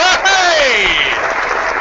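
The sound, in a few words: audience applause at a live podcast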